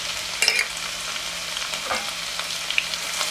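Chopped garlic and ginger frying in a pan over a high flame for a mix dal recipe, a steady close sizzle with a few brief stirring scrapes and clicks, with no talking.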